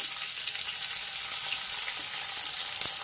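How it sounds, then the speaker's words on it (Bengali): Onions frying in oil left over from frying fish, a faint steady hiss and crackle close by with a single small knock near the end, and no one speaking. "এবার আমি তেলের মধ্যে পেঁয়াজগুলো দেব।"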